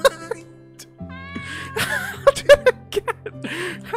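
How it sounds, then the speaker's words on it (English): A cat meows several times inside the Dragon Chronicles video game, short high calls breaking through a busy mix of game sounds and brief chuckling voices. "How did a cat get in here?"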